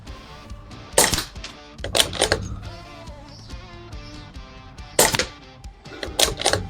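Airgun pellets striking outdoor targets give sharp, loud impact cracks in pairs and singles spread irregularly, with quieter rustling and handling noise between shots.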